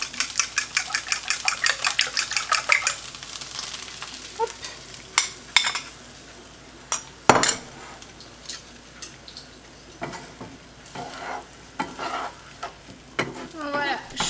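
An omelette poured into a pan over golden fried potatoes for an omelette parmentière, with rapid rhythmic stirring and scraping at first, then intermittent clatters and a steady sizzle, close and fairly loud, without speech.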